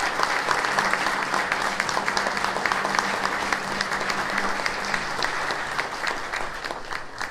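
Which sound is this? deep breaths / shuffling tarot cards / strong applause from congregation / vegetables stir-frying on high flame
strong applause from congregation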